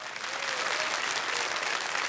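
A studio audience on the Indian quiz show Kaun Banega Crorepati applauds steadily. The clapping is dense and sustained, with no gaps, and no voices sound over it.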